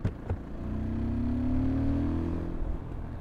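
A Fantic Caballero 500 Scrambler motorcycle engine revs up and holds, with a couple of sharp pops at the start and a few crackles near the end.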